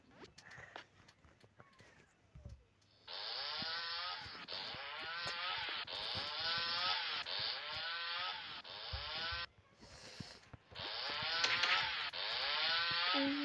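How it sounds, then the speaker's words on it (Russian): Wooden boards are hand-sawn outdoors with steady back-and-forth strokes that are moderately close. A brief pause breaks the sawing before it resumes, and faint sounds come before the first strokes. "Я сейчас пойду доски пилить"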